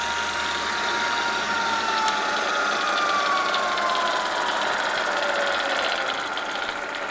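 A used Acra vertical milling machine runs its spindle at low speed, giving a steady mechanical hum with a faint whine that drifts slightly in pitch.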